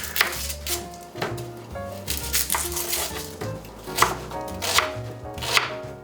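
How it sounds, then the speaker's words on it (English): A knife chops food on a cutting board for a corned beef casserole, striking in quick, uneven bursts of close, crisp knocks that repeat through the whole stretch, with no voice. "we need to chop up a few things here"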